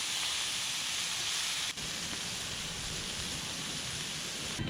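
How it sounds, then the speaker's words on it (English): A steady hiss of steam rising as water is sprayed onto potatoes cooking on a 17-inch Blackstone griddle, continuous and close, with a brief dip partway through and a small clatter at the end. "He said to spray water on the potatoes to make them steam."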